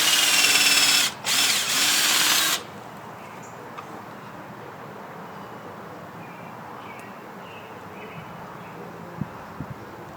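A power drill whirs loudly for about two seconds, with one short pause, while fitting stainless steel eye bolts for a raspberry trellis; quiet outdoor ambience with a few faint taps follows.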